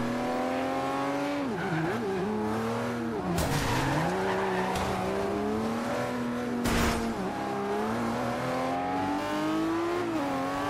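Racing cars in Forza Horizon 2 roar continuously while engine pitch rises and falls through gear changes, with tires squealing and skidding through corners and a couple of sharp impact bursts.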